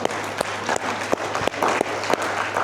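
Congregation at a church service applauding, a steady broad wash of many hands clapping with a few sharper accents, moderately loud and continuous throughout.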